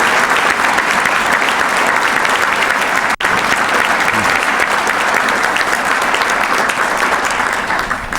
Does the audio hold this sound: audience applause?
yes